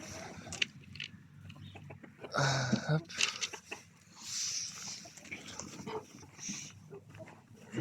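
Chickens and young roosters cluck and squabble close by as they're fed food scraps on a farm, short bursts of clucking mixed with scattered calls, with someone speaking briefly over them.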